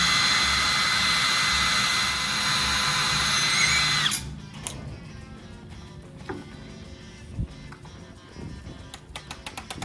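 A very long drill bit bores with a loud, steady power-drill whine for about four seconds while working on a 1959 Ford Galaxie, then stops abruptly, leaving faint scattered clatter and shop noise.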